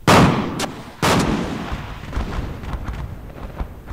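A loud SPG-9 recoilless rifle blast in a video game, fired at an APC from about 400 range: two heavy booming shots a second apart, the second followed by a long rumbling tail of debris and echo.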